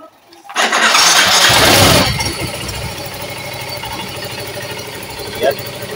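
A Honda Soul GT 125 motorcycle fitted with a Fazzio piston cranks and catches with a loud rising roar, then settles into a steady close idle while someone talks over it.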